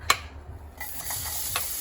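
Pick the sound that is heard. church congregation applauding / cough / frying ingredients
frying ingredients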